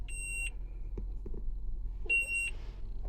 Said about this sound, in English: sorry for the annoying beeping noise